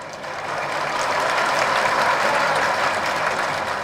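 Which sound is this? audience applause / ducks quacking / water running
audience applause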